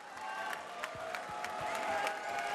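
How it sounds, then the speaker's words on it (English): Crowd at a UCMMA20 mixed martial arts event applauds, a moderate, sustained murmur of clapping and cheering with occasional distinct claps, somewhat distant and mixed with arena noise. "Let's give a round of applause for that."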